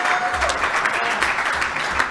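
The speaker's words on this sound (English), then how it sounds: "And give ourselves some applause" A crowd at the Ringo Awards ceremony claps warmly, a dense, steady wash of applause from many hands filling the room without a break or any speech.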